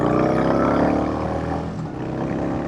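A Yamaha Bolt 950 cruiser motorcycle with a five-speed transmission rides down the highway, its engine holding a steady, loud, rumbling drone mixed with wind rush, tapering slightly near the end.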